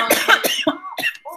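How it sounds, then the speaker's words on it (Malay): A person coughs in a short burst of several rough, close coughs in a quiet indoor setting, loud and alone, with no speech. "Dalam terbatuk."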